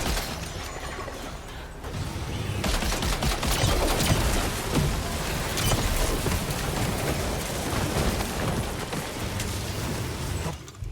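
Dense bursts of gunfire and mechanical clatter fill a combat scene in the video game Death Stranding 2, loud and continuous for most of the stretch before cutting off abruptly near the end.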